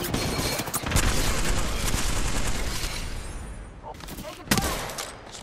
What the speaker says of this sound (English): Smart bullet deployed.